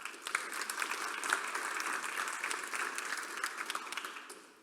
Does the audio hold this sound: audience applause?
yes